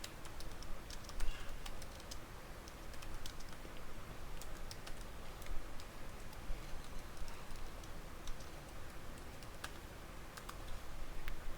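Java code is typed on a computer keyboard in a steady, faint patter of quick key taps, irregular but continuous, close by with no talking.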